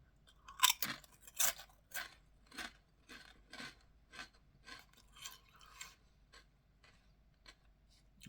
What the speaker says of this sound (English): The actual crisp itself, a nice, not too thin, not too skinny, not too fat, but just a nice crisp, nice crunch.